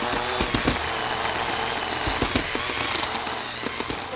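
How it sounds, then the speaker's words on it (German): A cordless drill whirs steadily as it mixes a thick blue paint paste in a glass art workshop, with a continuous motor drone broken by small irregular knocks and clatters. "Damit es schneller geht, haben wir so einen coolen Akkuschrauber. Und damit macht sie aus diesem blauen Brei Farbe."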